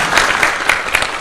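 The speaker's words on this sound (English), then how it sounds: "And a round of applause for His Excellency" Audience applause at the close of a presidential national address on Kenya's June 2025 Gen Z protests, a steady dense clapping throughout, loud and close, with no speech over it.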